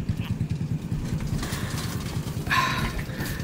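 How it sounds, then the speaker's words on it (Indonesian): A steady low motorcycle engine rumble throughout, idling or passing nearby, with a brief brighter surge near the end. "Kenceng banget ya suara motor"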